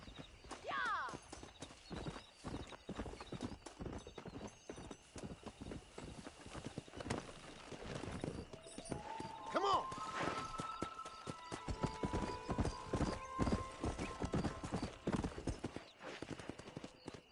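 Horse hooves clip-clop steadily during a ride in the video game Red Dead Redemption, with a brief whinny and voices talking over the rhythmic hoofbeats.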